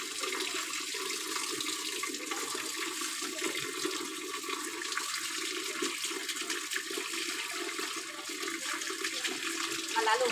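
Tap water runs steadily while a dog is bathed indoors, a continuous hiss and splash that goes on throughout with only slight shifts in flow.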